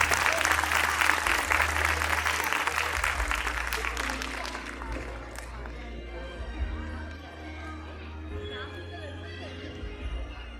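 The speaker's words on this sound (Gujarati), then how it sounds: "આપણે સૌ તાળીઓના ગડગડાટથી જયશ્રીને ફરી એકવાર વધાવીએ" A crowd applauding at a religious gathering, a loud burst of dense clapping that fades after about five seconds into scattered claps and room murmur, with a voice speaking over the hall.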